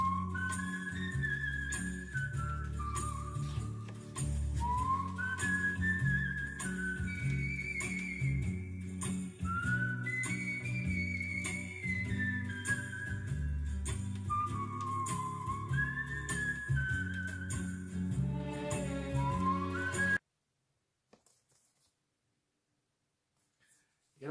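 Whistling of a radio theme tune, a Europe 1 broadcast signature, carries a clear bright melody in long phrases over a steady instrumental backing for about twenty seconds, then stops abruptly into near silence.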